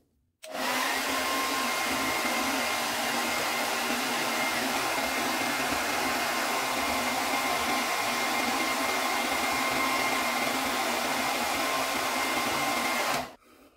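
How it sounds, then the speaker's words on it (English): Electric beard trimmer running continuously for about thirteen seconds, a steady close buzzing whir that starts and stops abruptly, with no talking. "then I'll go ahead and start trimming"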